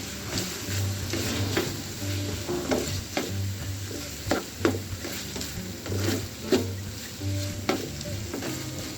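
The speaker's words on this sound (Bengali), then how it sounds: "দুই মিনিট নাড়াচাড়া করে এটা আমি চুলা থেকে তুলে ফেলবো।" Chicken burger filling stirred in a pan, a soft sizzle broken by regular scraping knocks of the spatula against the metal, close and fairly quiet.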